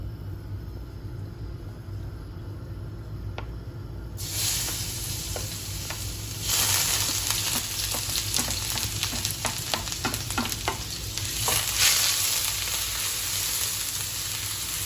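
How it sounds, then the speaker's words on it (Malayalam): Cut ginger and garlic drop into hot oil for chilli chicken and burst into a loud, bright sizzle partway through, growing fiercer with stirring scrapes and crackles against a steady low rumble. "നമ്മൾ കട്ട് ചെയ്ത് വെച്ച ജിഞ്ചറും ഗാർലിക്കും ഫസ്റ്റ് ഇടുക"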